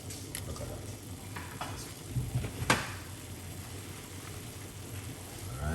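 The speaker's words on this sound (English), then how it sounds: "you guys can see it start to boil" Water with thyme for tea starts to boil in a pot on a cooker, a low steady bubbling hiss with a few soft knocks and one sharp clatter.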